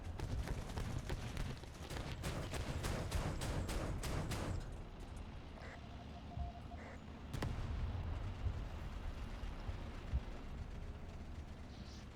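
Artillery fire in the War Thunder tank game, a rapid series of booming impacts and blasts followed by quieter distant rumbles and a lone sharp explosion, faint overall.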